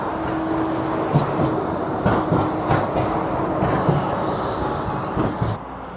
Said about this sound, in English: This is the next tram coming down to Stargate.